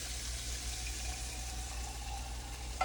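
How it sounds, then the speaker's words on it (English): Excess cooking oil is tipped off from a frying pan while making country style steak, a soft, steady pouring trickle heard faintly and alone for a few seconds. "so I'm going to pour some of that off."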